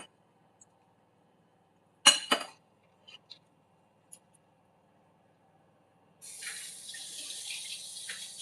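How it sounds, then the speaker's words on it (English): Water from a sink tap runs steadily as hands are washed, preceded by a few short clicks and knocks from a kitchen counter, all fairly quiet and close. "Let me wash my hands."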